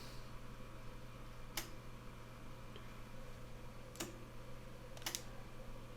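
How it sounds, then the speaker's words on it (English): A Cobra 139XLR CB radio's older-style relay clicks as the set is keyed, giving a few sharp, separate clicks over a steady low hum with no talking. "the older radios had the relay, so I can hear that clicking"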